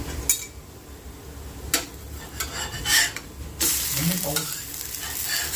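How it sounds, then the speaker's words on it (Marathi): Moong dal dhirde fry in ghee on a hot pan, a continuous close sizzle broken by sharp clinks and scrapes of a spatula and cookware, and a louder burst of sizzling toward the end. "इथे ना मी गरम, मुगाची धिरडे थालीपीठ बनवते ते पण मस्त साजूक तुपामध्ये"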